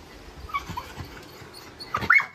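A small dog whimpers softly a few times, then lets out a couple of higher yelping whines near the end.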